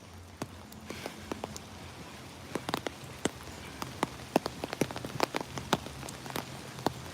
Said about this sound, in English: it is so beautiful and peaceful out here with the rain